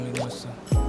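A single wet, bubbly drip-like plop rising out of a music mix, brief and fairly loud.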